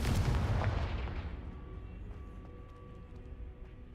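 A Confringo fire explosion spell goes off in the Hogwarts Legacy video game: one loud, close blast that rolls into a long, fading rumble with a low tone lingering behind it.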